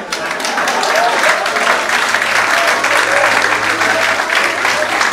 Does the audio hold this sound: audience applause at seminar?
yes